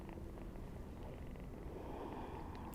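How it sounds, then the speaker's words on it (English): A cat purrs softly and close, a low rumbling drone that runs steadily through the whole moment in a quiet room, with a small bump at the very end. "This cat is playing with my hair."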